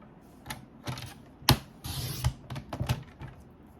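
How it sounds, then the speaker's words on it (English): A Stampin' paper trimmer cuts a card base down to 8 inches with a series of sharp, close clicks and snaps, then a brief sliding swish of the blade, followed by more scattered ticks. "I'm going to place this inside my trimmer, and I'm going to cut this down to 8 inches."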